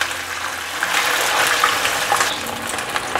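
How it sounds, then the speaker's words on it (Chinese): Pieces of vegetarian mock fish fry in a generous amount of hot oil in a wok, a loud, continuous hiss and crackle that swells slightly and holds steady. "油热了，把素鱼放进来煎"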